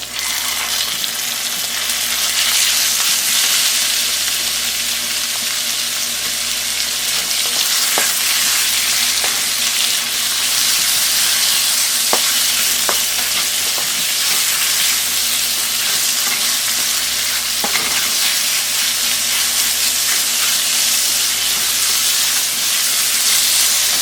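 Chicken mince fries hard in a pan for a long stretch, a dense continuous hissing sizzle close to the listener, broken by scattered scrapes and clinks as it is stirred, with a low rhythmic hum beneath and no voices.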